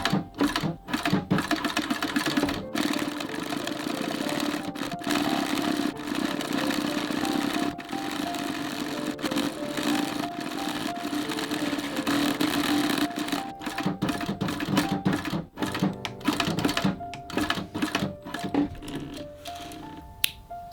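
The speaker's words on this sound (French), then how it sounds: "je vais venir coudre mon lacet." A sewing machine stitches a lace onto a handmade leather pouch in a loud, continuous rapid mechanical whir, broken by brief stops and restarts near the end, close up with no talking.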